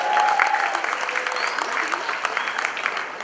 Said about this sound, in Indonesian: tepuk tangan buat Indonesia